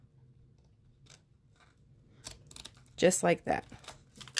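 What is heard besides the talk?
scissors trimming excess material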